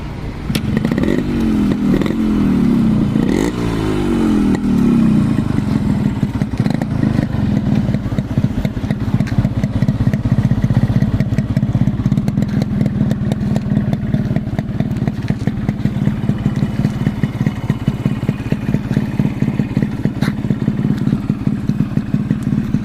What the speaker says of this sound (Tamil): அப்படியே வண்டி ஸ்டார்ட் பண்ணுறீங்களா? சவுண்டு பார்க்கலாம்.